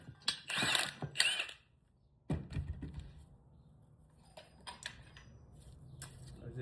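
A larger Milwaukee power tool, set to stage 3, setting 3, works on bushings in a Honda Element SC lower control arm. Short ratcheting mechanical bursts are followed by a quieter, lower churning.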